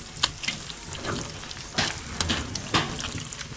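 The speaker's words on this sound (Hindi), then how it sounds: "आपने अच्छी तरह से मिक्स कर लेनी है सूजी को चाशनी में।" Semolina being stirred into sugar syrup for makhandi halwa, a soft bubbling sizzle with a few sharp spoon scrapes and taps against the pot, close and fairly quiet with no talking.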